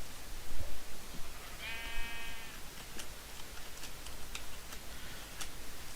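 A single Minecraft sheep bleat sounds briefly amid a busy background of soft ticking and clicking, faint and somewhat distant.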